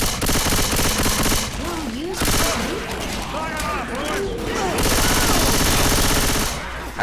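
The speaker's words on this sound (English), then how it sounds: "I'm shooting." Rapid gunfire in the Left 4 Dead 2 zombie video game, with dense bursts of shots running under voices talking almost throughout.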